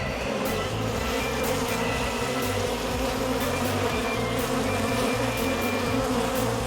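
Dense, steady buzzing of many honey bees swarming close by at an opened hive, anxious bees, a continuous droning hum with no voices.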